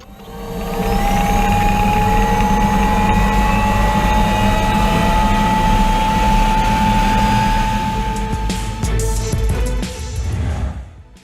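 A Kawasaki Ninja H2R supercharged motorcycle roars loud and steady at high revs for most of the stretch, holding a sustained whine before easing and sputtering near the end.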